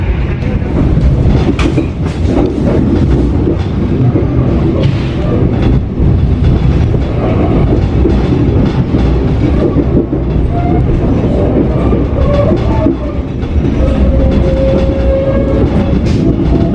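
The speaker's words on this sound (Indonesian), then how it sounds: "Masuk stasiun Kutoarjo." A Sawunggalih Utama passenger train rolls into Kutoarjo station, giving a loud, steady rumble with rhythmic clickety-clack from the wheels and a thin squeal rising near the end, with no voices.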